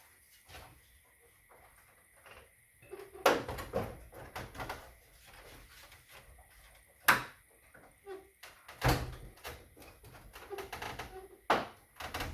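Plastic trim clips being pried and worked loose around the intercooler of a Nissan Navara V6 (V9X engine), giving sharp scattered clicks and snaps with soft handling rustle between them, close by and with no talk.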